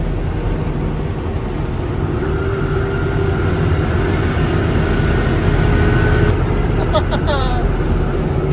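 Inside the cab of an M1085 5-ton military truck in sixth gear, a loud, constant engine drone and road roar fill everything, with a rising whine toward the end.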